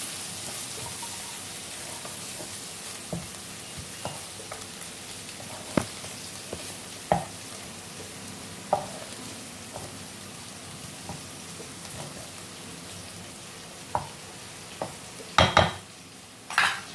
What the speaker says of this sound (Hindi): हल्दी पाउडर, मिक्स कर लेते हैं।